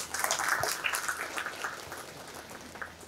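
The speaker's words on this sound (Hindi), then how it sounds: "तो खुद के लिए एक बार ज़ोर से तालियां बजाइए।" A crowd claps together in a sustained burst of applause, dense and steady for a few seconds before gradually thinning out.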